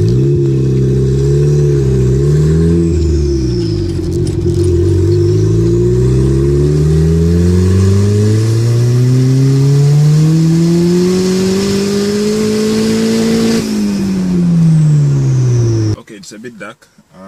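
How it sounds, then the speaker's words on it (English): A turbocharged car on a Speeduino ECU with no boost control pulls hard in second gear on a narrow road at night, the loud engine note rising steadily in pitch, dipping briefly, climbing again, then cutting off abruptly. "That was the second gear pull."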